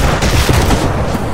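A fast burst of loud, close gunfire cracks out in The Walking Dead: The Final Season video game, several shots packed into barely more than a second with no talk.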